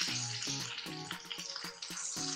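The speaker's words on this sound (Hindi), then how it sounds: "अच्छे से सौते कर लेंगे।" Curry leaves and ginger-chilli paste sauté in a hot pan with a steady, bright sizzle, punctuated by regular clattering stirs of a spoon against the metal, close and alone without talk.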